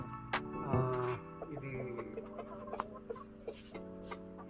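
A native Kodi Pachchadaku chicken on a village poultry farm in Turumella lets out a loud squawk early on, followed by a run of soft, scattered clucks nearby.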